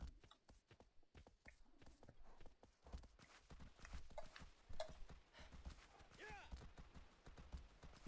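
Horse hooves clip-clop in a steady walking rhythm in Shadow of the Colossus, a 2005 video game, moderately close and continuous, with a faint voice and other game sounds around them.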